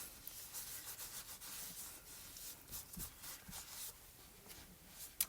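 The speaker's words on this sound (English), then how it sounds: "I'm also going to wipe my heat embossing down" A heat-embossed stamped card is wiped down to lift the ink off the raised design, giving faint, soft papery rubbing strokes that repeat steadily in a quiet room.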